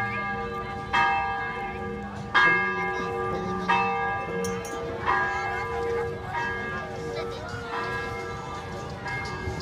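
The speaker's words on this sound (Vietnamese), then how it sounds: "các bạn nghe thấy tiếng nhà thờ đấy, tiếng chuông nhà thờ" Church bells ring in a foggy square in Sapa, struck in a slow, steady series of resonant tolls with long ringing decay, while people talk quietly in the background.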